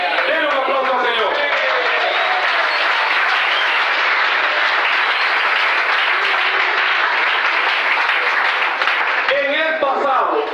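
A church congregation applauds in a steady, loud, sustained burst of clapping that fills the room, with a few voices calling out over it near the end.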